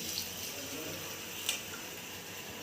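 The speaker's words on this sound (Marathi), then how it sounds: "हे गरम पाणी टाकते मी" Hot water pours into a pot of mutton biryani, making a continuous close rushing and splashing stream with one brief knock partway through.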